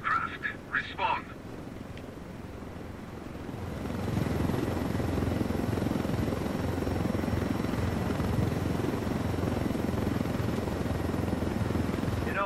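In the video game Ghost Recon Wildlands, a helicopter's rotor and engine roar loud and steady after a few brief sounds at the start, with voices talking over it.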